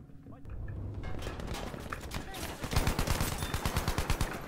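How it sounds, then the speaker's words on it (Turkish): Gunfire rattles in a Battlefield 5 match, building from scattered shots into rapid automatic bursts that grow loud and dense toward the end, with someone talking over part of it. "Dur, biri sıkıyor bana, iyi sıkıyor."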